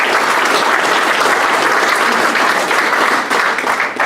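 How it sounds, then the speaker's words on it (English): A roomful of hackathon competitors applauding at an awards event, dense steady clapping close and loud for a few seconds with no talk over it. "Let's give yourselves a round of applause."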